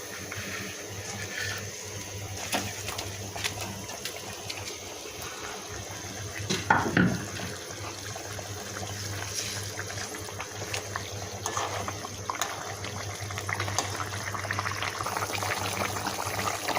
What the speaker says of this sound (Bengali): পানি ভালোভাবে ফুটে উঠেছে